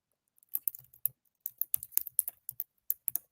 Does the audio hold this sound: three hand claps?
no